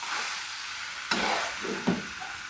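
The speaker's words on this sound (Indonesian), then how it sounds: "Oke, kita aduk-aduk." A goat meat curry cooks in a pan while it is stirred. A soft frying sizzle runs throughout, and two distinct scraping stirs from the utensil come up close, with no one speaking.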